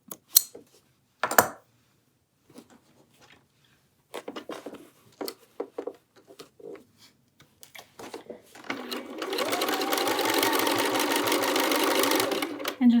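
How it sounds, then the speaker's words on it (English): A domestic sewing machine stitching binding onto a quilted jacket runs steadily and loudly for several seconds near the end, after scattered handling clicks and brief pauses. "And just sew up until I reach the next corner."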